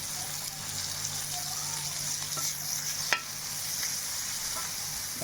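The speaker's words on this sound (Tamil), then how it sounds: "வெங்காயத்தை நல்லா வதக்கிக்கலாம் இது நல்லா வதங்கட்டும்" Finely chopped onion sautés in oil in a clay pot, giving a continuous close hiss and crackle with one sharp knock of a spoon midway.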